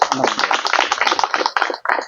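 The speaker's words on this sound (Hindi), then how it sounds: "जोरदार ताली होना चाहिए" Dense, continuous clapping from a crowd at an indoor union gathering for tourist boat owners on Neil Island, loud and close, with a brief dip near the end before resuming.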